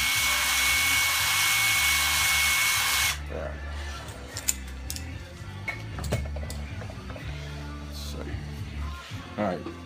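Loud broadband power-tool whir from a hone being run back and forth inside a small engine cylinder, steady for about three seconds, then cutting off to quieter clatter and handling noises.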